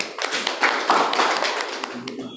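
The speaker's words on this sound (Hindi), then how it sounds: "सब समझदार एक बार ताली बजा दे" An audience at a seminar-style talk breaks into a brisk burst of many hand claps lasting about two seconds, then fades as a voice comes in.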